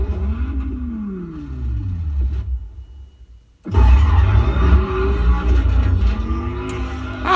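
A Dodge Viper engine roars and revs loudly nearby, its deep rumble rising and falling, then cutting out for a moment before it surges back even louder and keeps going.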